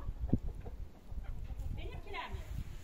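Chickens clucking and murmuring close by in a village amid a noisy background, with people talking over them.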